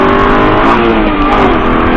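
A loud Aston Martin V8 Vantage engine revving hard at close range on a race circuit in Lyon, a continuous roaring drone that stays strong throughout.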